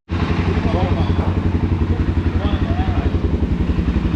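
A Suzuki DR650 motorcycle engine starts abruptly and runs loudly up close with a steady, throbbing pulse, and voices can be heard faintly over it.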